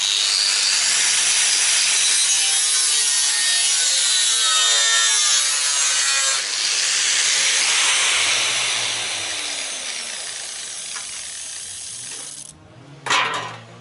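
Sheet metal for a car's front body panel being cut by hand after tracing from a cardboard template, a steady rasping, sawing scrape with rhythmic strokes that continues for most of the clip, then eases off before a brief sharp clatter near the end.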